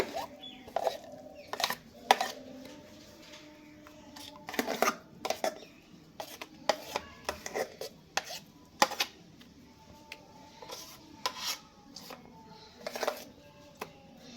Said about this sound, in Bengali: এবারে থালার মধ্যে ফেটিয়ে নেব খুব ভালো করে।